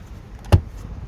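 A second-row seat in a 2021 GMC Yukon Denali flipped up, giving one short, solid mechanical clunk partway through, close by against a quiet interior.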